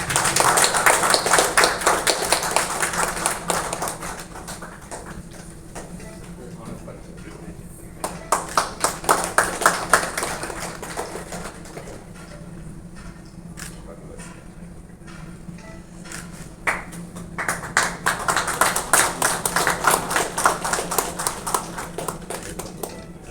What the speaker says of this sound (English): Can you all please give a big round of applause?